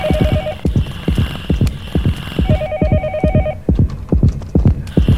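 A telephone rings in the horror game Yomawari: Night Alone, its repeated electronic trill cutting in twice over a steady, thumping backdrop of footsteps and game music.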